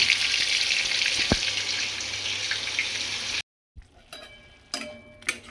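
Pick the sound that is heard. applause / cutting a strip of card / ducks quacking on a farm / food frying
food frying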